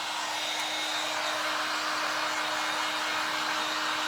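A hair dryer blows steadily to dry Stickles glitter glue on a craft mirror, a continuous close whooshing roar with a faint steady hum and no pauses.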